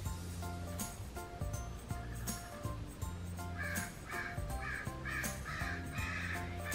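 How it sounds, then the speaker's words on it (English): A crow caws repeatedly in a steady rhythm from nearby outdoors, each harsh call distinct over faint background noise. "stupid bird."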